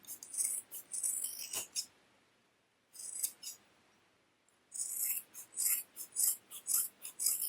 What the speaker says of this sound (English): trim away some of the bulk from that exterior side seam as well